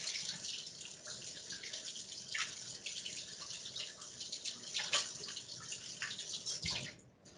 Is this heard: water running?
yes